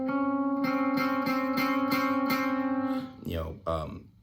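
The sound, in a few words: clashing notes over a major chord, bluesy tension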